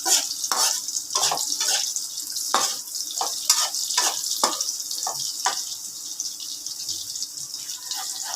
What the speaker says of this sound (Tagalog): kumukulo na ito